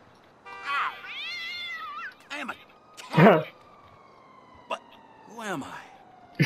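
Several short, high meows from a cat in the video game Grand Theft Auto V, spaced out over a few seconds, clear and close against a quiet background.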